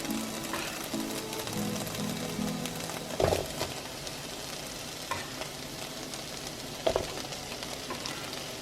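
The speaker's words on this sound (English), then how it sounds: "while we have the onions and the bell peppers cooking, we're going to put in our" Sausages fry alongside onions and bell peppers in a stir-fry pan, giving a steady close sizzle with a few sharp clinks of a utensil against the pan.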